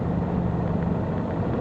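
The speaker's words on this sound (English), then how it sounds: "So you hear the engine pick up." A 2013 Mercury 150 hp four-stroke outboard on a boat runs at low trolling speed, a steady close rumble with a faint tonal hum and no clear rise in pitch.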